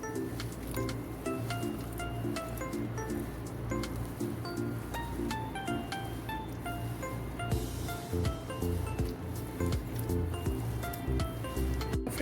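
Coconut ladoo mixture being worked by hand makes soft, continuous squishing and sticky rustling sounds, steady and close throughout.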